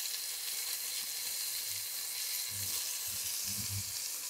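A leg of lamb searing in a hot pan: a loud, steady hiss of sizzling fat fills the whole stretch, with a few soft low knocks and shifts partway through, no talking.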